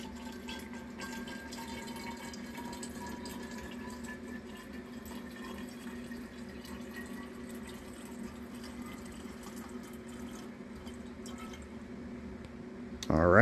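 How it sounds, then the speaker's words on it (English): Salt solution poured into a chloroform mixture during home chemistry, a soft steady trickle of liquid running continuously at low level, with a faint clatter near the end. "Pouring in the salt solution."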